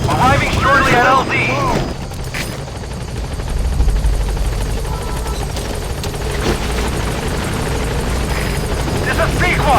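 Helicopter arriving at a landing zone in Metal Gear Solid V: a loud, continuous rotor drone with a heavy low rumble that stays steady throughout, while a voice talks over it at the start.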